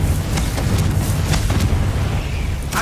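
A Confringo fire spell explodes in the Hogwarts Legacy video game: a loud, dense burst of booming blast noise that fills the whole moment, with rumbling low end and no voices.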